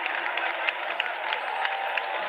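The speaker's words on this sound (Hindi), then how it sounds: "आप सब तालियां बजाते रहेंगे" A large crowd at Ekana Stadium in Lucknow applauds continuously, a dense steady patter of many hands clapping with a few sharper claps standing out, heard from within the audience.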